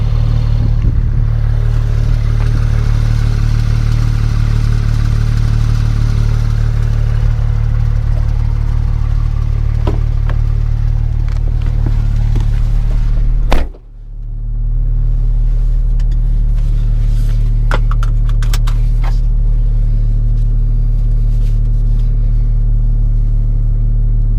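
A deep, steady engine rumble from a Porsche 991.2 GT3 with manual gearbox, in sport mode with exhaust open, drones continuously, briefly dropping off mid-way before resuming strong and loud.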